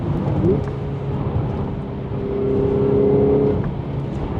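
A 2016 Audi S5 with a manual gearbox and stage 3 clutch accelerating from the driver's seat, engine pitch climbing then holding a steady droning note, loud and close, with a faint shift in the middle.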